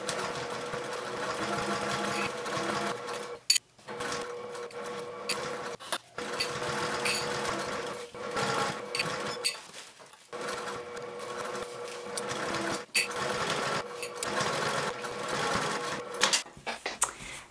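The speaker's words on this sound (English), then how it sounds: "Then you're going to sew the gusset to the front with a 1/4 inch seam allowance on the sides and the bottom edge." Sewing machine stitching the gusset of a fabric bag with a quarter-inch seam, humming steadily and close for long runs broken by a few brief stops, no voices over it.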